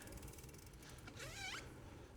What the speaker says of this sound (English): There go my squeaky shoes again.